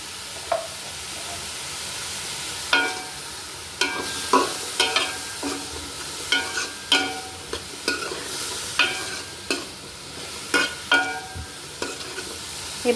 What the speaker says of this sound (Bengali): এই গাজর আর কালো কিশমিশগুলো কিন্তু আমি চিনি দিয়ে আর ঘি দিয়ে ভালো করে ভেজে নিয়েছি